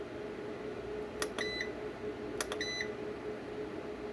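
Two short bursts of repeated high electronic beeps from charging equipment, spaced about a second apart, sound over a steady low hum.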